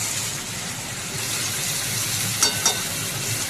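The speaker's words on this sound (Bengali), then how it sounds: "এখন ভালোভাবে আবারও নেড়ে নেব" Ridge gourd and potatoes with onions stirred in a pan, a steady broadband sizzle throughout with two brief scraping clinks near the end, close and moderately loud, no talking.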